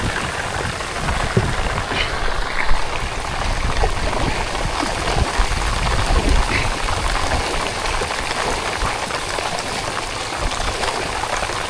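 Steady rain falling outdoors, a dense continuous patter of drops on surfaces, close and even throughout with no voices.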